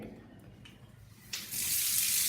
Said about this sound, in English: so this is water, right? This is water.